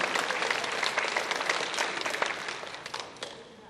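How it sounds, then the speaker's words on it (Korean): A church congregation applauds its pastor during a worship service, a crowd of hand claps, steady and fairly close before tapering off toward the end. "박수 쳐달라고"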